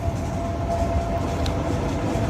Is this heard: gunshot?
no